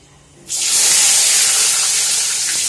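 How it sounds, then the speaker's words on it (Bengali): Potato, pumpkin and Malabar spinach stems drop into hot oil in a pan. After a brief quiet moment a loud sizzling hiss bursts up close and keeps crackling steadily to the end. "আগে ভেজে নিই।"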